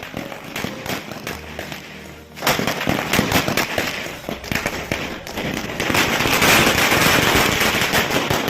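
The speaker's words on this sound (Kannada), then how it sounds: "ಜಯ ಘೋಷಣೆ ಕೂಗಿ ಪಟಾಕಿ ಸಿಡಿಸಿ" Firecrackers burst at a crowded political celebration in Pavagada as supporters cheer a newly elected municipal council president, rapid loud crackling volleys rattling on and off, then swelling into a dense, continuous barrage.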